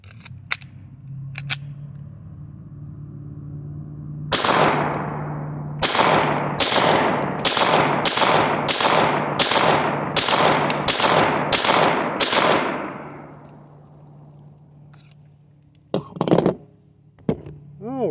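Pistol fire from Canik Mete MC9 and Mete SFX handguns at a shooting range: about a dozen sharp, loud reports in a quick even string, followed after a pause by a few more shots, with faint talk at the start.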